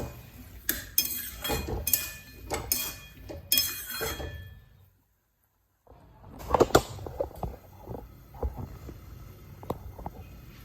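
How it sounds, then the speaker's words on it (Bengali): A pot of Bengali-style paneer and potato curry with turmeric is stirred, giving repeated metal clinks and scrapes. A short silence follows, then a lid goes on, with further clatter of utensils against the pot. "হলুদ দিলাম, দিয়ে নাড়াচাড়া করে ঢেকে দেবো।"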